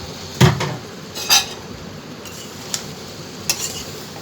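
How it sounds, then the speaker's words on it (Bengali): Spoon stirring lightly fried small fish into tomato masala in a pan, giving a few sharp metallic clinks and scrapes against the pan over a soft, quiet background, with no talking. "মাছগুলা দিয়ে নেড়ে চেড়ে মশলার সাথে মিশিয়ে নিব"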